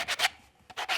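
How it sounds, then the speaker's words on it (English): Coarse sandpaper scrubbing a plastic vinyl figure kit in two short bursts of two strokes each, separated by a brief pause, close and fairly loud with no voices. "So I'm actually going here with some pretty coarse sandpaper"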